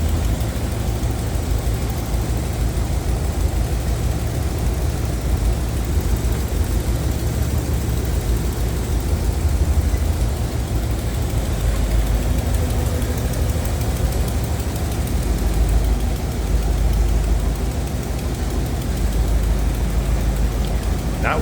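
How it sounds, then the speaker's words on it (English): A 1956 Cadillac Eldorado Seville with dual four-barrel carburetors idles steadily up close, its deep even rumble carrying a faint ticking from an exhaust manifold leak, no talk over it. "You can hear a little bit of that exhaust manifold leak."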